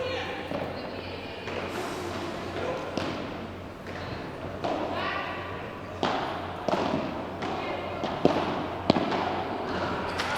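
A padel match in a FIP Silver tournament in Narbonne, with sharp ball strikes and volleys popping out in a quick rally under steady commentator speech and crowd murmur.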